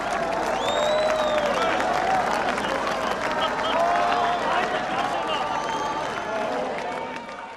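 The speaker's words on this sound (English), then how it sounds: "West Berliners had come to the border and they were applauding us" Crowd of West Berliners at the border applauding, sustained dense clapping mixed with cheering and excited voices, fairly close and loud, fading slightly at the end.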